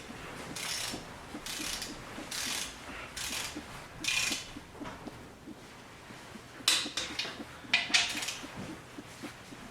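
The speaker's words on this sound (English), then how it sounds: "Keep in mind, this is only 20 pounds that I'm torquing it to. 20 foot-pounds." Torque wrench tightening engine bolts to 20 foot-pounds on a 2JZ engine, a series of short ratcheting clicks in bursts, with a few sharper metallic clicks later, fairly faint and close.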